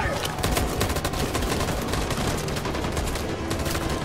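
Dense, continuous automatic gunfire from a firefight in the video game Detroit: Become Human, loud and unbroken throughout, with a player's voice talking over it.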